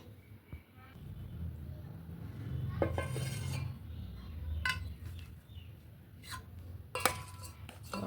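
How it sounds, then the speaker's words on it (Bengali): Spices are stirred into lightly warm oil for a mango and garlic pickle, producing soft scraping and rubbing in a bowl with a few sharp clinks of metal, fairly quiet and close. "মশলাটা তেলটার মধ্যে আমি ভালো করে একদম হালকা গরম আছে একদম ঠান্ডাও না এটার মধ্যে মিক্স করে নেব"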